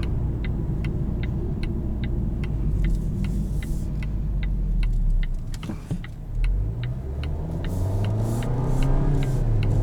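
A 2022 Volvo XC40 T5 R-Design accelerates hard, its engine note rising steadily inside the cabin with road rumble and repeated faint ticking throughout, and no talk.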